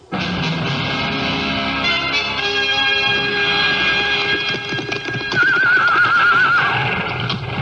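Horse neighing and whinnying in a radio drama sound effect, loud and close, with a long shrill whinny near the end over faint hoof and background noise, no talk.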